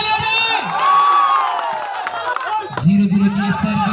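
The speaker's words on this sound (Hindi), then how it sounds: "मनोहरपुर के लिए एक बार जोरदार ताली हो जाए" Spectators at a village volleyball tournament clap and cheer loudly, a dense crowd roar with shouts and whoops throughout, while an announcer's amplified voice carries over it.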